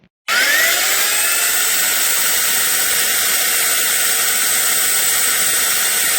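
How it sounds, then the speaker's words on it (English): A power drill fitted with hard drill bits bores out broken bolts in a pit bike frame, whining at a high, steady, continuous pitch after a sudden start, close and loud throughout. "his magic drill bits that supposedly will drill through anything"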